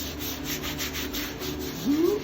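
Old whitewash and sealer being scrubbed off vintage terracotta tile, a steady rhythmic close rubbing with regular back-and-forth strokes, alone without talk.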